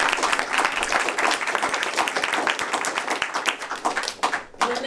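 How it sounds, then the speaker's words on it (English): Dense applause from a live storytelling-night audience, steady crisp clapping close by and filling the room for several seconds before tapering off near the end. "Can we give another round of applause to all of our storytellers tonight?"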